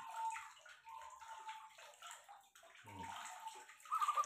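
Water splashing and trickling onto a perkutut zebra dove as it is wetted for an herbal treatment, a steady close wash of running water with a brief gurgle near the end.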